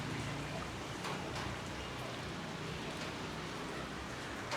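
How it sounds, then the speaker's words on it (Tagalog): Steady rain pours down during a stormy night with strong wind, a continuous broadband hiss of falling water that stays even and fairly quiet throughout, with no talking. "Tapos yung ulan."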